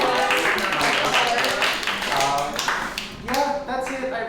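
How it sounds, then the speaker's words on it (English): Audience at a final reading of love songs and murder ballads cheers and claps, a dense wash of applause with voices mixed in, steady and close, swelling briefly near the end. "They're cheering."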